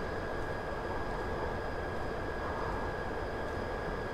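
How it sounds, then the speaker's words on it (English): A Class 59 locomotive rolling along the Medway Valley Line in Train Simulator 2018 gives a continuous dense rumble with steady high tonal whine, no voices. "The track makes some funny noises here."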